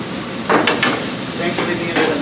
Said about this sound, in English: I just call it brown butter basting.